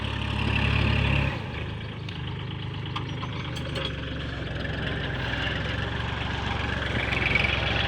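Kubota L4018 tractor ploughing a wet rice paddy, its diesel engine droning steadily close by with a heavier chugging note at the start, running alone without speech.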